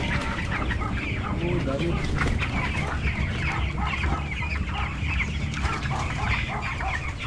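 Chickens and young chicks cluck steadily at close range, a dense, continuous farmyard chatter during a barangay fiesta in Malusak, with a brief spoken exclamation over it.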